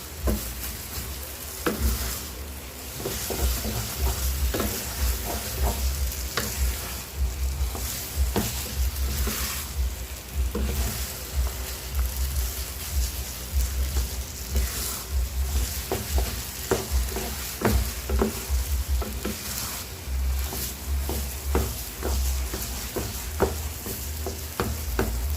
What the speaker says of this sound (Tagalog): Haluin muna natin para yung dumikit.